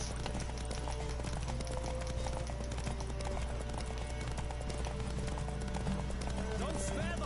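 A horse galloping in The Witcher 3 during a race, a dense, continuous drum of hoofbeats under a busy game mix with wind and music, while voices talk over it.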